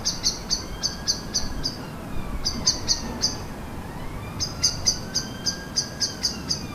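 Near nests, blackbirds give quick bursts of repeated sharp chirps in a steady alarm rhythm, close and clear over a soft background hum, while a juvenile magpie moves nearby.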